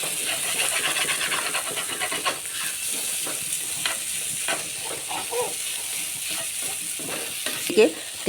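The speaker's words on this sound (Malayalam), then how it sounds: "അത് നല്ലവണ്ണം ഇളക്കി" Egg bhurji sizzles steadily in a pan while a spoon stirs it with repeated scraping strokes and a clink near the end, heard up close without speech.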